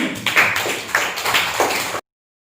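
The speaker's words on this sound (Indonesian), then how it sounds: "Tepuk tangan juga untuk Mas Fahri." Applause from a small group, a couple of seconds of fairly loud, uneven clapping that stops abruptly.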